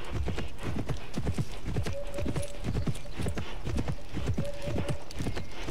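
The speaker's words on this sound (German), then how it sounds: "So, jetzt können wir auch sogar mal woanders hinreiten." Horse hooves clip-clop in a steady rhythm as a horse is ridden in a riding video game, loud and continuous, with a brief whinny-like tone now and then.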